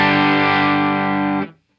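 An electric guitar with its volume on 10 runs through a Source Audio Atlas compressor pedal, sounding clean but squashed as one sustained, loud chord rings evenly for about a second and a half before being cut short.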